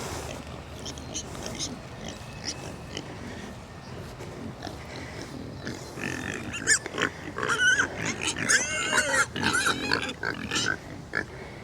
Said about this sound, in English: Hello, little pigs. Little pigs all over here to greet me.